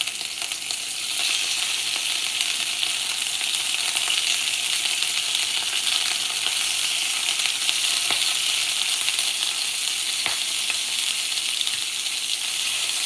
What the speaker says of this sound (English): We don't want the shrimp to cook too fast.